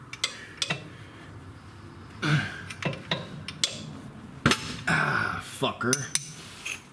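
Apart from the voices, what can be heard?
wrench being used on a KEI mini truck axle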